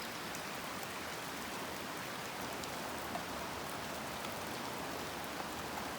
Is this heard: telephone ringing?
no